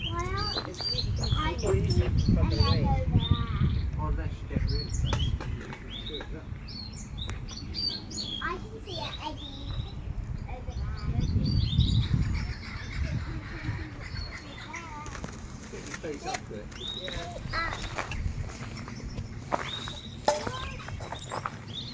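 Birds chirp and tweet throughout an aviary in the Elizabethan garden of Kenilworth Castle, with scattered calls mixed with footsteps and people talking nearby.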